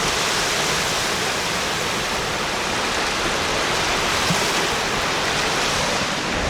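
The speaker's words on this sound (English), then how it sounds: "I'm gonna go do a little sea ASMR for you." Sea waves on the Irish coast wash in a steady, dense roar of surf, loud and unbroken throughout with no voices.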